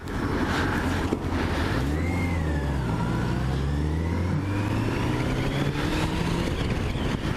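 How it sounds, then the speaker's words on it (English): A 2002 Yamaha FZS600 Phaser, a carburetted motorcycle, ridden on the road with its engine humming steadily and rising and falling in pitch under constant wind rush. "The bike you're on today is a Yamaha FZS600 Phaser from 2002."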